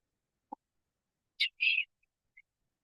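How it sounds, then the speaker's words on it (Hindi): Birds call in a forest, a few sparse, isolated chirps and whistles separated by silence, clear and fairly close. "पक्षियों का कलरव"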